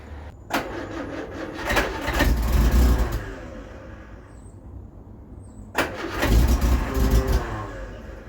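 A 1975 Vauxhall Viva HC, abandoned for 30 years, is cold-started twice: each attempt brings a cranking churn that catches into a brief ragged rev, with a quiet pause between the two tries.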